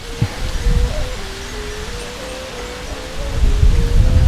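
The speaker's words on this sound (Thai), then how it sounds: "ลมเนี่ยพัดแรงครับ" Strong wind blows outdoors at a kite-flying spot, a broad, roaring rush that buffets the microphone with low gusty thumps, loud and continuous and building again at the end.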